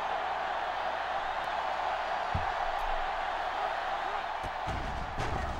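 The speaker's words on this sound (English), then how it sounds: "Crowd going crazy here on 2nd and 20." Steady roar of a stadium crowd in the NCAA Football 06 video game, loud and continuous throughout on a tense second down, with a few faint thumps on top.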